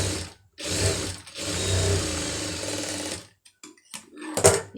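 A sewing machine stitches a folded fabric edge in two loud, close whirring runs, the second one long and steady. Short taps and clicks from handling the cloth fill the gaps between runs.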